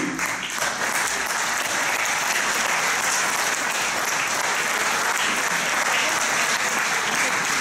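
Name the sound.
audience applause at a political rally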